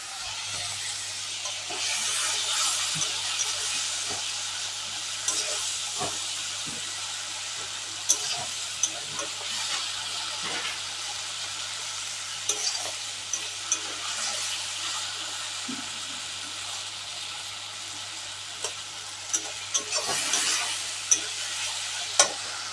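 Onions and masala fry in oil for a fish curry, a continuous close sizzle broken by repeated scraping and clinking stir strokes, with no voices.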